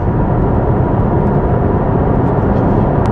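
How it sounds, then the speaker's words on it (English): Engine noise from an Aston Martin Vantage fitted with an AMG V8 of about 500 hp, driven in sport mode: a steady, loud, broadband drone with no pauses and no talk over it. "First proper drive in the Aston Martin V8 with the AMG engine."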